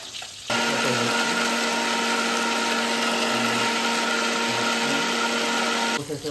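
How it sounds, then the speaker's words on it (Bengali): An electric grinder whirs into action grinding spices, a loud steady motor hum with a rattling churn that holds for several seconds before stopping. "এখন গ্রাইন্ডারে মশলা পিষে করা হচ্ছে।"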